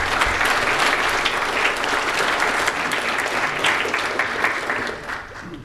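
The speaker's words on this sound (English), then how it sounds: "So I think the Lord and His work deserves a round of applause for that" Church congregation breaking into sustained applause, a dense wash of many hands clapping that carries on for several seconds before tapering off near the end.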